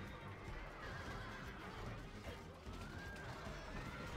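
Horses neigh and whinny repeatedly over a loud, dense battle din of clashing and crashes in a Rome: Total War fight, with hooves and combat noise filling the background throughout.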